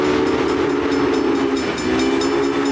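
A train in the Railway Empire video game rolls on with a loud, steady drone and a sustained tonal whistle or horn-like hum, holding unbroken throughout with no talk.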